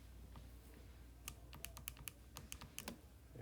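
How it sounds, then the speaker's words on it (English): Keys tapped on a computer keyboard while numbers are entered into a statistics calculation, a quick irregular burst of close, crisp clicks after a short quiet lead-in. "Typing that in."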